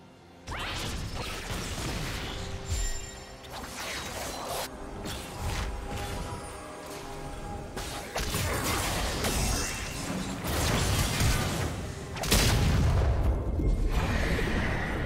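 Turret destruction in a League of Legends match, heard as a dense run of crashes, booms, whooshes and mechanical clanks, loud and continuous throughout without any voices.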